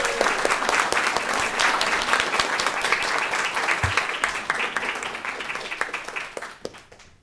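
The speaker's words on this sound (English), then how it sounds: "Please give a warm round of applause to these hardworking small business owners." An audience at a city council meeting gives steady applause that continues for several seconds and then gradually thins out and fades into a few final claps.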